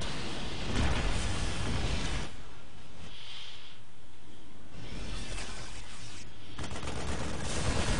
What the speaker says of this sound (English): Tanks are firing on Banes.